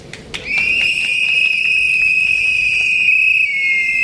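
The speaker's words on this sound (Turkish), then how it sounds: "Düdüklerimizi bir çalalım lütfen" A shrill whistle blows in one long, steady, loud blast at a protest in Turkey, with a couple of sharp clicks just before it starts.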